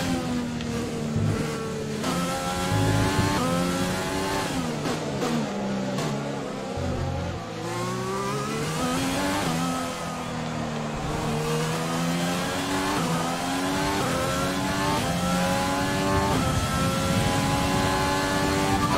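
A race car engine in the F1 2020 video game, Australia race, revving hard and continuously with rising and falling gear-change sweeps, loud and close throughout, no talk.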